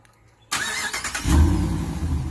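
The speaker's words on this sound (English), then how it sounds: "what it would really sound when you turn on your truck" A 2017 GMC Denali pickup truck engine cranks and fires up after a moment of quiet, then settles into a deep, steady rumbling idle.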